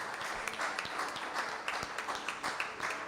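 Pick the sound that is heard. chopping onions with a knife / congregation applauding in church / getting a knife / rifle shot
congregation applauding in church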